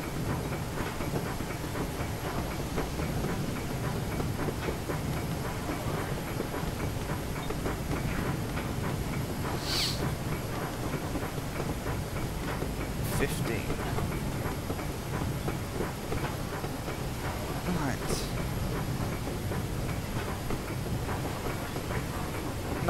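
A Southern Region Spam Can steam locomotive running in Train Simulator 2017, a steady rumbling roll with a faint rhythmic clatter and occasional brief hissing bursts, continuous and fairly quiet.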